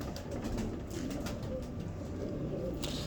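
Pigeons coo softly against a constant, noisy background hum, with the calls faint and blended rather than distinct, and no one speaking.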